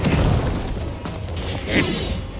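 Explosions in Black Desert Online: deep, rumbling booms with a crashing, debris-like texture, loud and close, with no talking.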